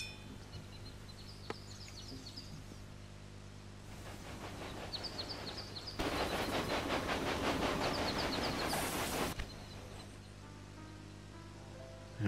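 A log train running in the video game Railway Empire: a soft rumble that swells into a loud, rhythmic clickety-clack with hissing, then fades back to quiet background music.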